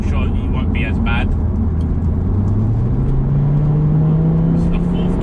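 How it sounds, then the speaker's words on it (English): A 2.5-litre turbo petrol Audi TT RS pulls hard in fourth gear, its engine droning loudly and rising steadily in pitch from inside the cabin while someone talks over it. "This is the 4th gear pull. It moves literally from any gear."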